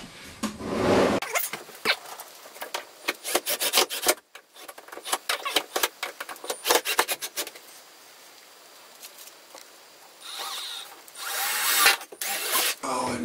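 A power drill drives screws into the roof of a cabinet during construction, with repeated short whirring bursts and clicks, a quiet pause, then a few louder runs near the end.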